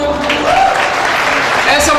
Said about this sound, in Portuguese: uma salva de palmas para a turma.